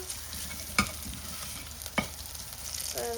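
Garlic fries in a pan with a soft continuous sizzle, two sharp stirring clinks, and a brief rising tone near the end; no speech.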